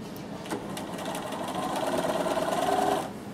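A Bernina sewing machine top stitches in a rapid, even mechanical whir that builds and runs steadily for a couple of seconds before stopping, heard close up with no voices.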